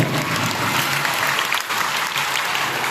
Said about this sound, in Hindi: सबसे पहले इनका जोरदार तालियों से इस्तकबाल किया जाए